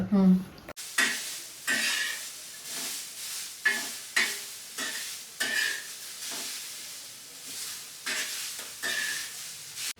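Stuffed crabs coated in gram flour fry in a pan with a steady close sizzle, cut by repeated stirring and scraping bursts while a voice talks intermittently.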